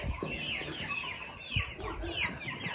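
Farm hens clucking and chattering close by, a steady run of short overlapping clucks from a small flock, with a young hen once mistaken for a rooster among them.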